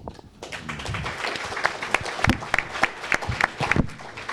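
A crowd at a sheriff candidate forum breaks into applause that builds quickly into a scattered run of individual claps, fairly close, with a speaker's voice briefly audible at the start.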